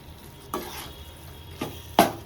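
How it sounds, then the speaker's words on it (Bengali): A spoon stirs olive pickle in a pan over a low background sizzle, with three distinct scraping knocks, the last the loudest. "ভালো করে একটু নেড়ে ভালো করে নেড়ে দিচ্ছি"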